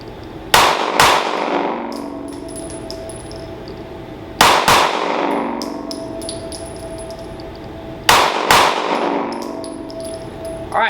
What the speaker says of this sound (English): now that I've fired a couple rounds, I can look at the target